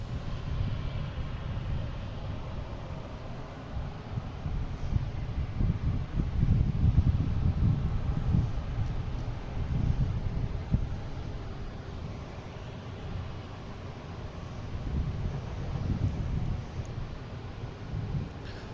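A Lufthansa airliner takes off from runway 15 at Boston Logan, a broad low roar swelling to a peak midway and then holding steady, heard from a distance with wind buffeting the microphone.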